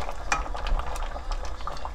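A pot of hairtail fish stew with chili and ginger simmering, a steady low bubbling hiss with soft pops and a few faint clinks, continuous and close with no talking.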